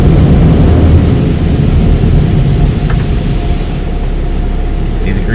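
Automatic car wash running over a car with a husky inside, a dense, steady roar of spraying water and machinery close around the vehicle, holding level throughout and easing slightly near the end.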